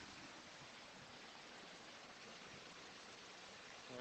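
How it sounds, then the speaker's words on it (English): Water flows steadily through a canal lock, a constant broadband rushing hiss, soft and unbroken throughout. "Nice sound of water."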